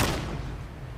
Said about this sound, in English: You trying to shoot me with the shotgun from that distance, dude?